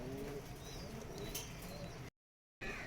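Pigeons of Rajshahi Giribaz and Pakistani breeds coo softly in a loft, several overlapping low coos and faint chirps close by, broken by a brief dead gap before the cooing resumes.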